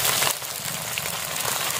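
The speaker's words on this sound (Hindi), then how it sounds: "एक साइड मछली जो कि फ्राई हो चुके हैं" Pothiya fish sizzles steadily as it fries in a pan, a close, continuous hiss and crackle with no pauses and no voices.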